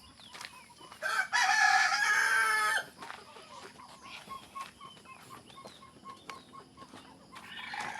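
A Rhode Island rooster crows once loudly nearby, followed by scattered clucking from several chickens and another crow starting at the end.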